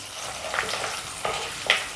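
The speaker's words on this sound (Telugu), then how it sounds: "ఇప్పుడు ఇందులో అర టేబుల్ స్పూన్ ఆవాలు, అర టేబుల్ స్పూన్ జీలకర్ర, 2-3 ఎండుమిర్చి ముక్కలు, అలాగే 2 రెబ్బల కరివేపాకు." Mustard seeds, cumin, broken dried red chillies and curry leaves sizzle in hot oil, a steady close crackle with small pops and stirring scrapes and no voices.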